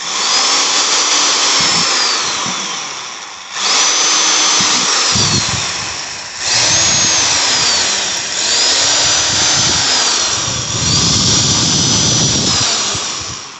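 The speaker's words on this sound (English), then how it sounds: "I'm making strategically some 1/8 inch holes." Power drill whines loudly and close through five sustained bursts, making 1/8 inch holes in a plastic bumper, with the pitch sagging as each bit bites in and rising again between holes.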